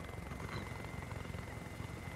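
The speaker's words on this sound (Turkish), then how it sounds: "Şurada uçak var. Bizim uçaklar." Aircraft in a War Thunder battle, heard as a steady, droning engine and rotor-like hum at moderate level, continuous and even with no speech over it.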